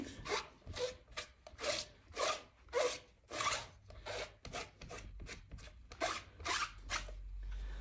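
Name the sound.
cleaning a rubber stamp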